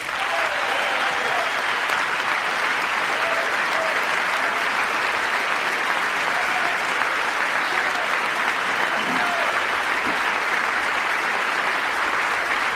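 Sustained, loud applause from the audience in the chamber during a presidential address to Congress, a dense unbroken roar of clapping with faint crowd murmur, holding steady for the whole stretch.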